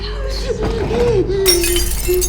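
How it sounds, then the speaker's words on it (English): A cup shatters in a room, a sudden bright burst of breaking glassware partway through, heard under a person talking. "A loud sound of a shattering cup echoed through the room."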